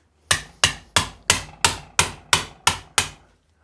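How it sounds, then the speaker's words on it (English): Nine sharp hammer taps at an even pace knock a seized radius arm part loose on a Classic Mini suspension, each strike ringing close and clear with a short decay and no talk. "sometimes it can be a little bit easier if you give it a little tap"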